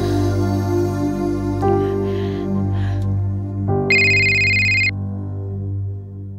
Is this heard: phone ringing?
yes